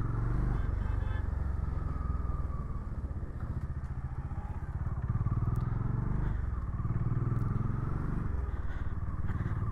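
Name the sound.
Bajaj Dominar 400 motorcycle riding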